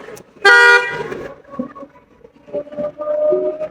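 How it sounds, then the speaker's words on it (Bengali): A car horn blares once loudly, followed by quieter scattered street noises and a few softer tones, fairly close. "ওর গাড়ির হর্ন আমি শুনতে পেরেছি"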